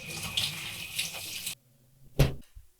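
Running water hisses steadily from a cold shower for a moment, then cuts off abruptly, followed by a brief splash and a few drips in the quiet.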